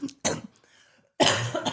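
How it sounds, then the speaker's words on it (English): Someone coughs close to the microphone, two quick bursts followed by a pause and then a longer, harsher cough. "sorry, listeners, for my coughing again."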